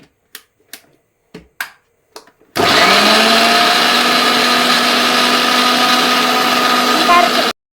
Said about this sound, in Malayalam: കപ്പ മിക്സിയിലിട്ടിട്ട് കുറച്ച് വെള്ളം ഒഴിച്ച് വേണം അരയ്ക്കാൻ